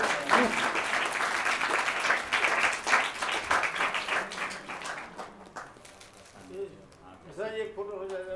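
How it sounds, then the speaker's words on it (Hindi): Clapping from an audience welcoming guests at a social drama performance, steady and full for several seconds, then easing off as voices begin talking near the end. "आप सभी लोग तालियों से स्वागत करेंगे।"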